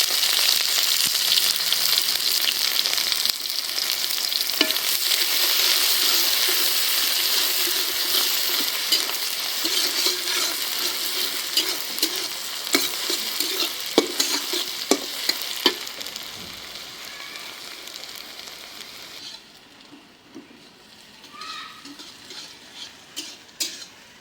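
Onions sizzling in a hot pan, a dense close crackle with occasional spoon taps and scrapes, easing off near the end.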